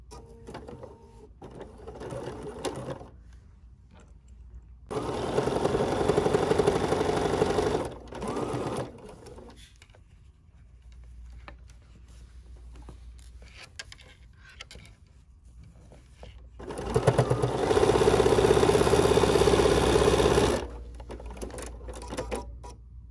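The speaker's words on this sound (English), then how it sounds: "And now we're going to stitch this." A sewing machine stitches a quilt block in two steady bursts of rapid, even whirring, each lasting a few seconds, separated by quieter pauses with light handling noise and no talk.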